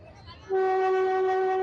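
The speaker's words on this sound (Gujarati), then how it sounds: "આ ટ્રેન જુનાગઢ શહેરની વચ્ચેથી પસાર થાય છે" A meter-gauge train's horn blares suddenly and holds a loud, steady tone, following a short stretch of low rumbling background noise as the train passes through Junagadh city.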